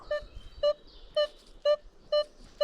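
Metal detector tone during a forest search for buried jewelry, six short regular beeps with electronic warbling between them, close and clear with no talk.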